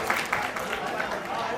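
An audience claps continuously at a Barot community youth organisation celebration, a dense, steady patter of many hands, partly mixed with a voice speaking.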